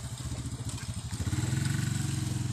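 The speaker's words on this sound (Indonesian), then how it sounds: "mau ngidupkan mesin dulu, ngidupkan air kita ya" A small engine started up to run a water pump chugs with a rapid, steady pulsing beat, getting louder and rougher after about a second, close by with no talking.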